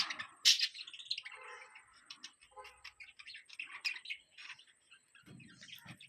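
Small pet birds chirp and tweet in quick, scattered bursts, fairly faint, with a steady high whine in the background.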